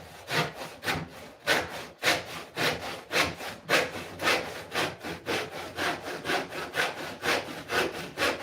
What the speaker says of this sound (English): Try to keep that saw nice and perpendicular.